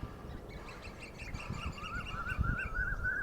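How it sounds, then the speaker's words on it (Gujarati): Asian koel calling on a village farm beside a wheat field, repeated rising whistled notes coming in a steady series that grow louder toward the end, over faint rustling background noise. "કોયલોનો અવાજ આવે છે મસ્તીનો ટવકા કરે છે"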